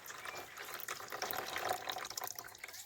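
Reddish water poured off grated potato into a sink while making homemade potato cornflour, a steady close splashing wash of liquid running for about three seconds with no talking.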